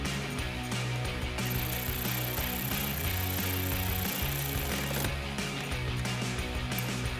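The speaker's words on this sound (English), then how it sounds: "take a 10mm socket and tighten that down" Ratchet with a 10mm socket tightening a nut onto a headlight connector stud on a Mustang GT, a dense, continuous clicking over steady background music with no pauses.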